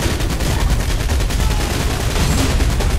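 An American machine gun in Saints Row IV fires in a continuous rapid stream, loud and close for the full three seconds, each round blending into a dense rattling roar with no talking.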